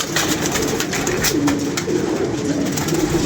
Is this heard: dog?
no